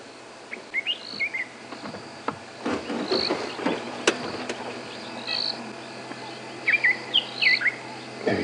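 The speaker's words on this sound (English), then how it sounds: "Now that is the robin chat we saw for the first time on live drives a few days ago." A white-throated robin-chat sings clear, fluid whistled phrases at Djuma Game Reserve on a morning safari drive, repeating several times over a steady bed of insect and cricket buzz.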